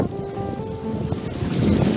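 Wind buffets the microphone over rolling surf at Sanur Beach, Bali, a steady near rumble of waves and gusts with no talk.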